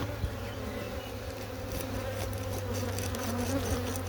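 A steady, dense hum of many honey bees buzzing close by in an open hive, a continuous drone with faint clicks and rustles mixed in.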